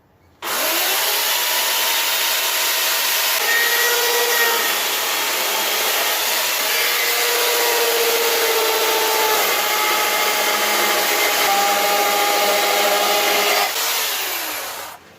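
A hand saw cuts through wood to trim joinery pins for slab wood furniture, producing a steady, loud rasping stroke that continues unbroken for about thirteen seconds, close and alone.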